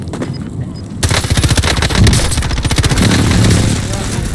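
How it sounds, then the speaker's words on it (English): Precision airstrike in Call of Duty Warzone: loud rapid gunfire-like bursts and heavy impacts begin abruptly and keep rattling densely, with voices mixed in. "Enemy precision airstrike, take cover!"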